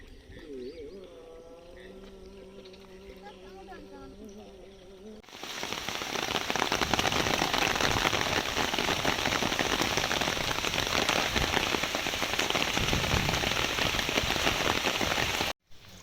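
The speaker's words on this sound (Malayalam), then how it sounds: "വളരെ ശക്തമായ മഴ തന്നെയാണ് നമ്മൾക്ക് കുറച്ച് ദിവസമായിട്ട് കിട്ടിക്കൊണ്ടിരിക്കുന്നത്" Heavy rain falls outdoors in Kerala beside a field stream. After a quieter opening with faint tonal sounds, a loud, dense, steady downpour drums on surfaces for about ten seconds, then cuts off abruptly.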